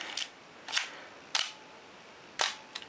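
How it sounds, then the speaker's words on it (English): Four sharp, separate mechanical clicks and snaps as the back door of a Minolta X film camera is opened by pulling up the rewind knob; close, crisp, with quiet gaps between. "We pull up on that knob, it opens up the back."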